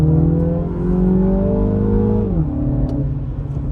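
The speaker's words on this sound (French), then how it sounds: "on entend le moteur, mais on entend aussi l'échappement à l'intérieur" A Mini Cooper S GT Edition engine drones steadily with a resonant exhaust hum heard inside the car, then drops in pitch as the revs fall, close and loud.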